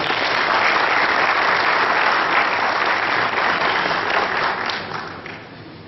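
Audience applause at a pétanque masters tournament award ceremony in Madagascar, a dense sustained wash of clapping that holds steady for several seconds and then begins to thin and fade near the end.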